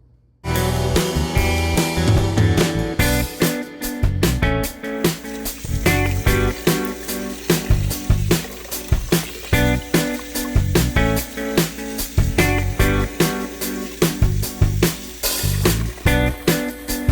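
Water runs and splashes steadily into a container being filled for an Ebb Tide purple rose, with dense clattering bursts throughout and no talking.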